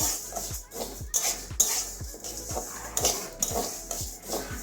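Dry lentils being roasted in a pan for a prawn and bottle-gourd khichuri, with regular scraping and clinking of a spatula against the metal, stir strokes repeating roughly every half second, near and moderately loud, no talk.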